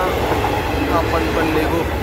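The Mandavi Express, hauled by a diesel locomotive at Vaibhavwadi station, rumbles past close by in a continuous loud roll of wheels and carriages.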